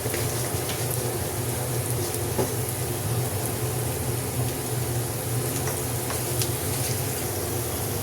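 Cumin seeds crackle and hiss in hot oil for a tempering poured over a mung dal and jute leaf dish, a steady, dense sizzle with small pops that carries on evenly throughout.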